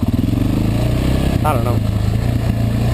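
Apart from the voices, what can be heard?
motorcycle engine idling high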